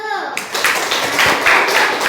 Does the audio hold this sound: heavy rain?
no